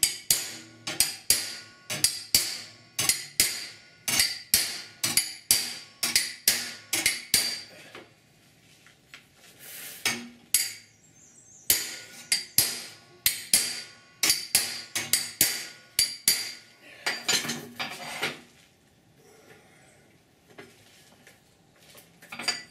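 Sharp metallic hammer blows over a body spoon, rolling a flange on a patch panel for a rusted 1969 C10 core support, in quick rhythmic bursts, ringing and clanking, with short pauses between runs of strikes.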